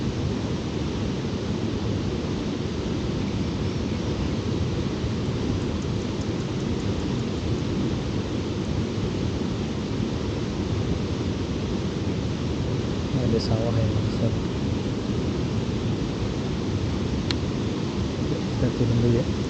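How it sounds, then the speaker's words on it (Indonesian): Light drizzle falling outdoors in Alahan Mati, Pasaman, a steady, soft broadband hiss of rain that continues evenly throughout, with faint occasional voices in the background. "oh, masih gerimis."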